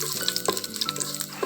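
Dried red chillies, with mustard seeds, fry in hot coconut oil, a soft, quiet sizzle with small crackles and pops close by.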